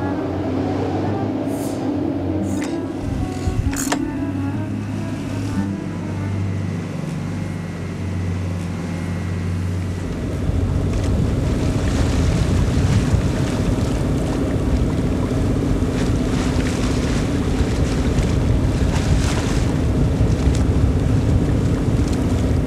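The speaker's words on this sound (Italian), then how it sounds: "La tempesta oscura il giorno e l'umida notte il cielo." A storm at sea batters a boat, with loud gusting wind and rushing waves that swell and grow rougher and more turbulent halfway through, continuous and close, with no voices.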